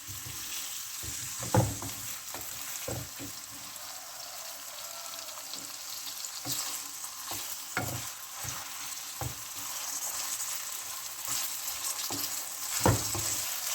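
Bitter gourd (karela) roasts in a pan on the stove, a continuous sizzle and hiss broken by scattered scrapes and stirring clinks, close and steady with no talking.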